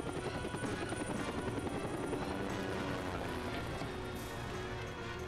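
Helicopter rotor chop and engine drone from the Superman: Shadow of Apokolips video game, a steady, dense whirring beat held throughout at moderate level with no talk over it.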